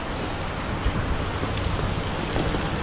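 Heavy storm rain pours down in a steady, dense hiss that never lets up, loud and close, with faint low rumbles underneath.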